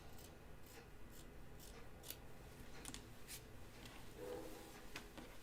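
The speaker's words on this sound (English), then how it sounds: "Let's just trim this a little bit." Scissors trim the fabric of a 1940s New England style dress with a run of close, crisp snips. The cuts come in a steady, uneven rhythm at moderate volume, with a little soft handling noise between them.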